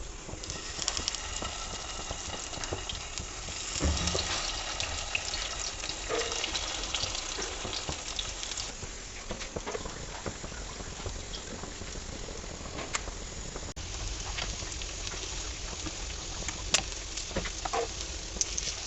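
Beef shami kababs fry in oil in a pan, giving a steady dense crackling sizzle that holds at an even level for the whole stretch, with scattered sharper pops and no talk.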